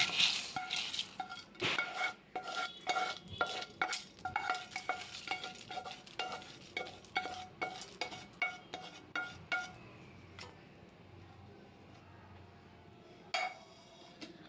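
A spoon stirs roasted peanuts, roasted gram and grated coconut into papad poha chevdo in a metal pan, making a rapid, steady run of dry rustling scrapes and clinks that slow and fade toward the end, close and alone.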